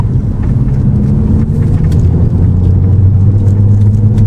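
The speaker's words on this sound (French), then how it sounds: "T'entends comme il se charge, le turbo ?" Volvo C30 T5 Heico driving on small roads, a loud, low engine rumble building steadily as the turbo spools up under acceleration, with no voices.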